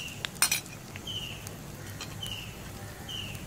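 A spoon clinks and scrapes inside a pot as dhal with garlic, ginger and red onion is stirred. A quick burst of clatter comes first, then faint scraping under a quiet room hiss.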